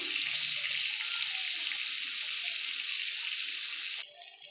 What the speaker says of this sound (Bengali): পটলগুলো ভাজা হচ্ছে